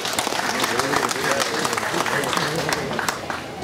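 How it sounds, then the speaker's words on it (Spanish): Loud, sustained crowd applause at an outdoor student award ceremony in Ayutla, a dense continuous roar of clapping with voices talking beneath it. "Y fuertes aplausos."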